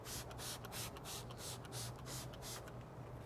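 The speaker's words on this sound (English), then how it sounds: "All you have to do is simply spray directly onto the surface here." Quiet, rapid bursts of a spray bottle hissing in pulses as protectant is sprayed onto a faded rubber car floor mat, close by and faint over a low steady hum.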